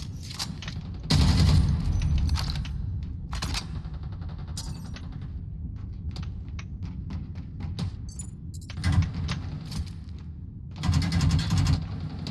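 Bursts of gunfire in the video game Eve Vanguard, with dense rapid volleys and scattered single shots spread over several seconds, loud and sharp with mechanical clicks in the gaps, no talking.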